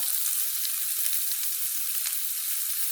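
Eggplant and vegetables for a meatless musaqa fry in a pan and get stirred, giving a steady, close hissing sizzle with small scraping accents.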